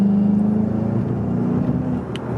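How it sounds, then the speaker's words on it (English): A 2019 VW Jetta GLI MK7 sedan with 228 horsepower and a turbocharged engine revs up under acceleration, a steady loud droning hum heard from inside that drops slightly near the end, with no talking. "You hear it through the front right here. You hear the engine"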